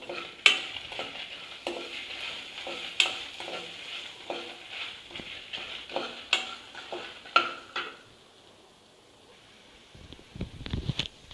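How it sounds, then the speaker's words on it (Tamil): Dried red chillies and cumin seeds are stirred and dry-roasted in a pan for a Madurai potato kuzhambu. A spoon scrapes and clinks against the metal in irregular strokes over a soft, steady sizzle, with a louder clatter at the end. "காஞ்ச மிளகா அண்ட் சீரகம், இது மூணுத்தையுமே நம்ம போட்டு வறுக்க வேண்டியதுதான்"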